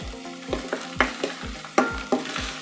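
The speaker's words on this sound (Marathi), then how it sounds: "हे मध्यम आचेवरती कांदा परतवायचा आहे" Onion sautés in a pan over medium heat, a close, continuous sizzle broken by regular scraping strokes of a spatula about twice a second, with no voices.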